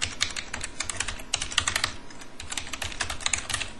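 Fast, steady typing on a computer keyboard with crisp close key clicks in continuous bursts and no talking.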